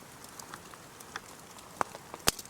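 Big raindrops hit a space blanket on a chilly mountainside at about 13,000 ft. Scattered light taps are punctuated by two sharp, loud smacks near the end.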